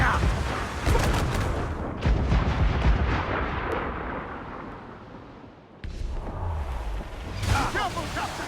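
Ship cannons firing during a naval battle in Assassin's Creed IV: Black Flag, a rapid series of loud booming blasts over about eight seconds, with shouted voices mixed into the broadside.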